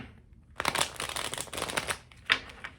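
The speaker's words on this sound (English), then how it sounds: "let's shuffle first properly." Tarot cards are shuffled rapidly in a crisp riffling burst, followed by a few shorter flicks and taps close by.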